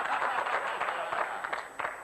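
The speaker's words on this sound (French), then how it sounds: "On l'applaudit," Dense applause from a studio audience on the Fort Boyard television game show, steady and moderately loud, with voices mixed in.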